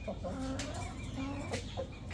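Tethered roosters cluck in a few short, faint calls against a steady background hum, with no one speaking.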